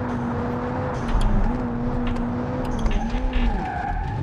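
A car in the BeamNG.drive driving game, on a Pikes Peak hill-climb mod, skids as it hits gravel: a steady engine drone with a rising and falling pitch, overlaid by rough, scraping tire noise that builds in bursts.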